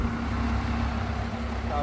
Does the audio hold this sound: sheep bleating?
no